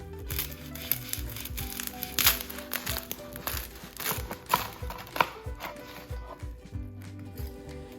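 A knife saws through crispy, crackling porchetta pork skin, producing a run of close, dry crunches and brittle snaps with no talking.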